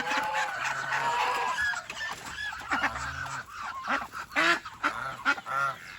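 Chicks and poultry on a farm calling repeatedly, a mix of honking, clucking and peeping voices overlapping close by, with short bursts and pauses between calls.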